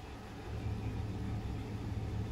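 A 5-speed manual Toyota Tacoma with the 4.0 engine idles steadily at around 750–800 rpm, a smooth, low, continuous rumble with no revving.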